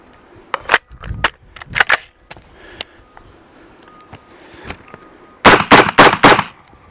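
A BCM rifle fires .223/5.56 rounds into a self-healing target: sharp, loud, close gunshots, spaced irregularly at first, then a fast cluster of shots near the end.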